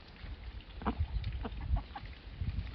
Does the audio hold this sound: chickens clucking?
yes